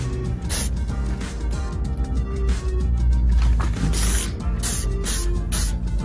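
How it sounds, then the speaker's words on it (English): Metallic spray paint hisses from an aerosol can onto costume suit parts in a back alley, with several short bursts of spraying over a steady low background hum. "Now, I'm going to go take these to the back alley and spray paint them."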